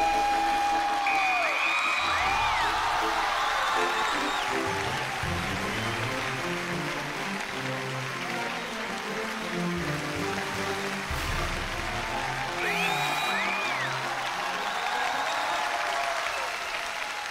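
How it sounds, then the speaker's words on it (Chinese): A studio audience applauds steadily as Jackie Chan is welcomed onto the stage of a Chinese television talk show. The clapping is dense and sustained throughout, with a few scattered whoops and cheers mixed in. "掌声有请华人名片成龙"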